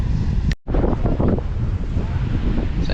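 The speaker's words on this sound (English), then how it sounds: "the wind blows the sand everywhere" Strong wind blowing across a sandy beach, a steady loud roar buffeting the microphone with one brief dropout near the start.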